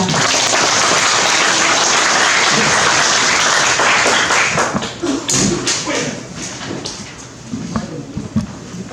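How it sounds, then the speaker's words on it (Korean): Audience applause at a book launch ceremony in Korea: a dense, loud wash of clapping from a seated crowd that fades into scattered claps and murmuring after about five seconds. "많은 박수 부탁드리겠습니다"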